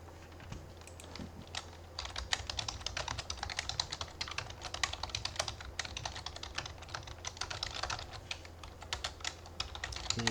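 Rapid, steady keystrokes on a computer keyboard while C++ code is written, a dense patter of light clicks recorded close and fairly quiet, alone with no voices.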